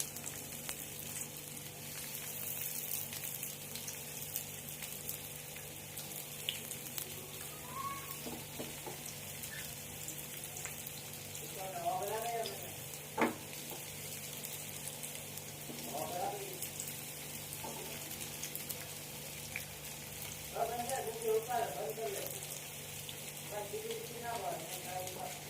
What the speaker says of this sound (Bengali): এবার চিকেনটা আমি ভেজে নেব।